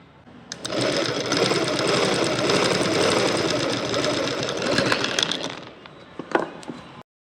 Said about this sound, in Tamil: இப்போது இன்னொரு ஸ்டிச்சஸும் போட்டுக்கலாம்.